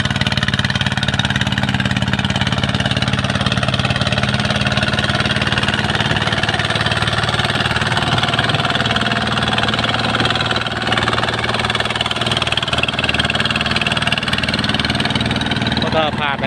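A truck engine idles steadily and loudly nearby, a continuous low rumble before pulling onto the road near a mine, with someone talking over it.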